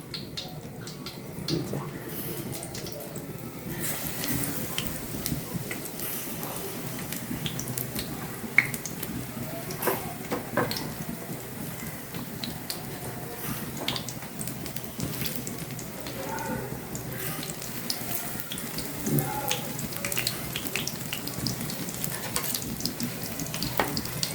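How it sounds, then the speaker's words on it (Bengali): Pumpkin flower fritters frying in oil give off a steady crackling sizzle that runs the whole way through, with faint clinks and some low talk in the background. "এইভাবে করে আমি সবগুলা কুমড়ো ফুল ভেজে নিব"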